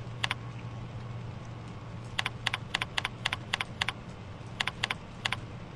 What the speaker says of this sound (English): In a text frame, type in two lines Sports Clothes Sales.